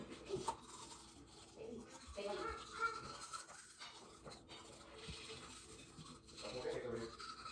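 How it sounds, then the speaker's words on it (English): Teeth brushed with a cheap Dollar Tree toothbrush and toothpaste: close, continuous wet scrubbing and rubbing strokes with uneven rhythm, moderately loud, without clear speech. "I'm just using this toothbrush that I got from Dollar Tree"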